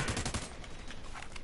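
Rapid gunfire in an army video game crackles in a dense burst at the start, then thins to scattered, fainter shots and noise over a very short stretch.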